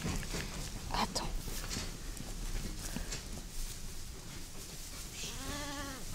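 Ewes and lambs on a sheep farm bleat over a busy barnyard din of shuffling hooves and rustling, with one clear wavering bleat near the end and voices talking throughout.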